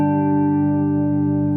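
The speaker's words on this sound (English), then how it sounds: "Here's a clean sound." An electric guitar plays with a clean tone, one sustained chord ringing steadily and evenly for the whole moment, clear and unaccompanied.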